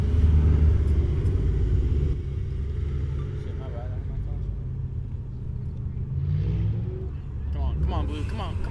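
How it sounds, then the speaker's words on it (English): Street racing cars roll slowly past, a steady low engine rumble filling the scene with a swell around the middle and a few brief revs near the end, while people talk over it. "So every so often cars would be zipping by, or sometimes, like you're about to see, they would go very slowly by."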